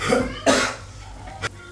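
A person coughs twice, harsh and close, with COVID, followed by a short throaty sound, with a steady low hum underneath.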